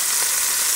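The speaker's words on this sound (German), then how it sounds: "wir werden das ganze Fleisch jetzt einmal anbraten, bis alles durchgebraten ist" Meat searing in batches in a Dutch oven, a steady loud sizzle and crackle of frying, continuous and close for a brief moment.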